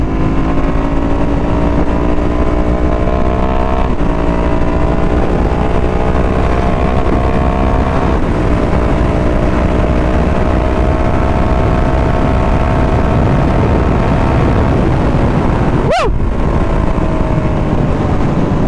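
A Ducati Hypermotard motorcycle engine runs loud and steady close to the microphone, its pitch rising and settling through the revs, with wind buffeting throughout and a brief sharp spike near the end.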